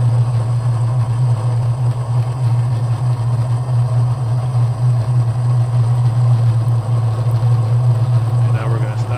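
A model diesel locomotive's sound decoder accelerates: a loud, steady diesel engine rumble drones continuously, a deep hum holding throughout with faint higher mechanical whine above it.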